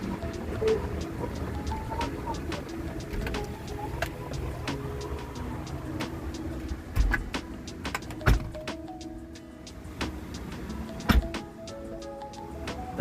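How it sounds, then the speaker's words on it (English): Doors of a 2020 Tesla Model X power-closing, a steady motorized whir with scattered sharp clicks and a few firmer thumps as they seat, heard up close in a quiet setting. "Start by closing the doors."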